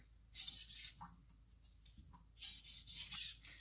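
A barbecue pitmaster's knife is drawn back and forth across a whetstone at a steady angle, giving two bursts of bright, hissing scraping strokes separated by a short quiet pause, close and fairly soft.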